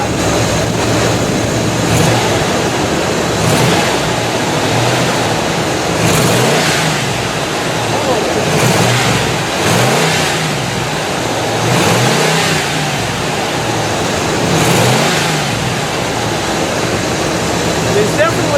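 A Buick engine with an exhaust leak revs up and down repeatedly in loud, rough surges over a steady idle rumble, close by, with someone talking in places.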